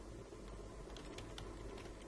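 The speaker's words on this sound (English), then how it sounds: "so we will type pentathlon" Light typing on a computer keyboard at a desk, a short run of soft scattered key clicks over faint steady room hum, no talking.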